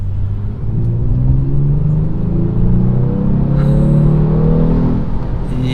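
A 2020 Genesis G70 accelerates hard in sport mode, its engine note climbing steadily through high revs as a close, loud rising roar with no talk over it.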